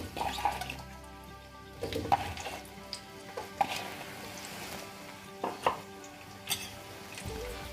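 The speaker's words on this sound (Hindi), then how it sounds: "हमारा जब ऑयल गर्म हो जाएगा तब हमने जो गोभी को काट के रखा था ना, वो इसमें ऐड करेंगे" Cauliflower pieces slid into hot oil for shallow frying, with soft sizzling and stirring clinks from a pan, a few sharper knocks of spoon on metal punctuating a steady low crackle.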